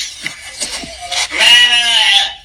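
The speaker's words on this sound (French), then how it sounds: "c'est seulement les moutons seulement qui sont là-bas." A sheep lets out a loud, close bleat that wavers over a second or so, preceded by short, fainter bleats or snorts. No speech is heard.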